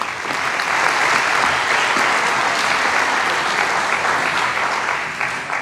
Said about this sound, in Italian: anche qui un bel applauso